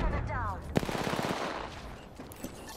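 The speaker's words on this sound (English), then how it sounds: "The enemies are shooting at me." Enemy automatic gunfire in Apex Legends crackles as a rapid burst of shots, moderately close, set among other game effects and a short rising electronic tone.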